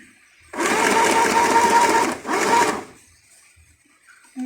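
A domestic sewing machine runs two close stitching bursts, a long run and then a short one, each a steady mechanical whir at moderate loudness, with quiet pauses between them and no talking.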